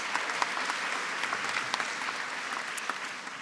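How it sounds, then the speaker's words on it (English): An audience at a graduation ceremony claps for new Bachelor of Arts in Education graduates. The applause is soft and slightly distant, a dense, even patter that continues throughout. "So a big round of applause for our Bachelor of Arts in Education, Business Studies and Accounting."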